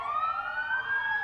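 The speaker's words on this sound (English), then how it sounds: "ambulance," An ambulance siren sounds a sustained rising-and-falling wail, one steady tone sweep heard clearly and alone.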